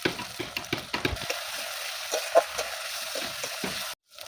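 Bengali-style spice paste with cumin, ground coriander and Kashmiri chilli powder sizzling and being stirred in plenty of hot oil, a steady close crackle with scraping strokes, ending abruptly.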